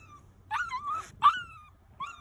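A dog whimpers in drawn-out, wavering whines, with short yelping cries between them, close and fairly loud.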